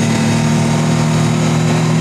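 Steady, loud mechanical drone from the three-cylinder engine of a Can-Am Maverick R off-roader running in automatic mode, holding high revs without a gear change, close and continuous, with no talk.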